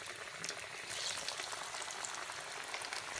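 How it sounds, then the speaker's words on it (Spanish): Double-breaded tofu nuggets fry in very hot oil, giving a steady, dense crackling hiss that stays even and close throughout with no voices over it. "Los vamos a freír en aceite bien caliente"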